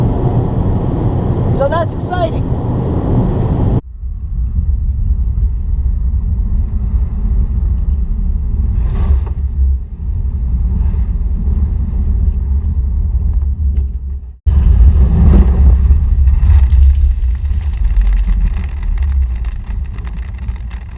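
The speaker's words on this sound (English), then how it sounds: "Doing 110 miles an hour on a dirt road." A 2017 Subaru WRX drives very fast on a dirt road, a loud engine rumble and roaring road noise throughout, with a brief drop and surge partway, under someone talking.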